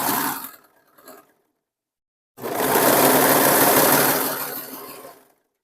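A domestic sewing machine runs one continuous burst of about three seconds, stitching a wrap dress skirt under the presser foot, close and loud, after a short quiet stretch with faint handling noises.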